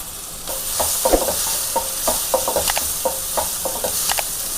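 Chopped carrot pieces go into a frying pan for street-style egg fried rice, giving a soft sizzle broken by repeated scraping and stirring strokes close by, with no voices.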